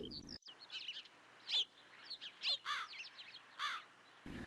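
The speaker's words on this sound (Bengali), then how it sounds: "চারিদিকে পাখির কিচিরমিচির শব্দ" Cartoon birds chirping around a village path, a series of short bright calls and tweets repeating at a moderate pace, clear and fairly close over a quiet background.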